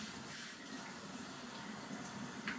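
A cup rinsed under a running tap, a steady quiet hiss of flowing water held for a few seconds with a faint splash near the end.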